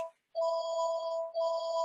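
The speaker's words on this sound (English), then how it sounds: "apologize for the phone going off in the background" Telephone ringing in the background during an online session, two electronic ring bursts with a short gap between them, clear and fairly loud with no voices over it.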